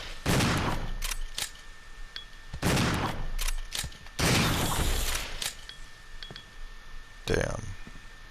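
Shotgun blasts in the Resident Evil 0 video game, several loud booming shots spaced a second or two apart with mechanical clicks of pumping and reloading between them, alone without talk.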